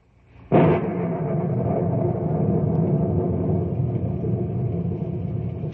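Thunder in an old-time radio drama storm scene: a sudden loud crack opens into a long, heavy, continuous rumble that rolls on without fading, with no voices over it.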